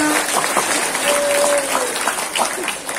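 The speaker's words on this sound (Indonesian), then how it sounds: "Tepuk tangan dulu dong buat suami Anda." Applause from a crowd honoring husbands at an Indonesian community gathering, a steady broadband patter of many hands lasting throughout, with a brief tonal whistle or voice cutting through midway.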